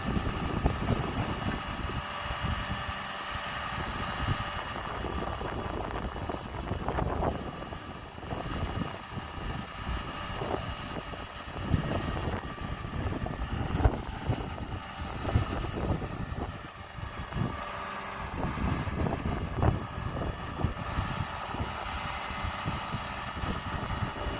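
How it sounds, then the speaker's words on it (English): Gusty wind buffets an outdoor microphone near a working telescopic boom machine, making rough low rumbles and irregular thumps over a constant mechanical hum, with no talking. "The wind is picking up a little bit, to be honest."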